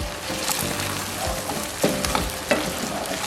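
Rice stock hits a hot skillet and sizzles, a bright crackling hiss broken by scraping stirs and a couple of sharp spatula knocks against the pan, close and continuous without speech.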